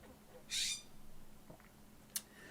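A bird calls outside, with a short bright burst of call and later a brief sharp chirp, both faint and distant against quiet background.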